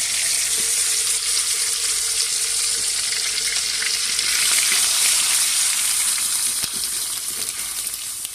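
Ginger-garlic paste and onion paste fry with spices in a hot pan, giving a steady, loud, close sizzle throughout with a few faint scrapes and no talking.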